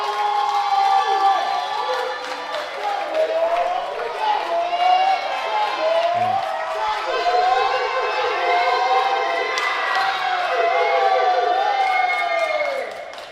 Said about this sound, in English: As you can hear, there's a lot of excitement in the crowd right now